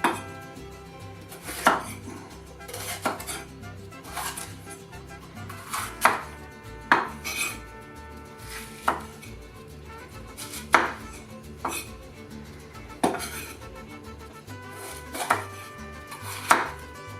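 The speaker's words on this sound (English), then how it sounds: "I'm going to cut up some of these peppers" Knife chopping bell peppers on a cutting board for chicken fajitas, a steady run of close, crisp chops with a few louder strikes, no talking.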